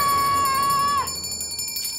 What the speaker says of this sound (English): Enough with the bell already!